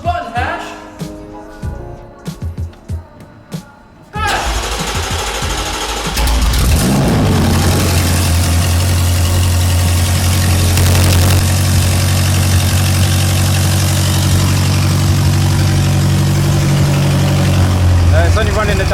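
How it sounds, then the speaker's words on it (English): A built BMW M5 of over 1000 hp with six turbos cranks up with the exhaust off, running only the downpipe, then settles into a loud, rough, rumbling idle; people talk before it starts. "That is the sound of a 1000 plus horsepower M5"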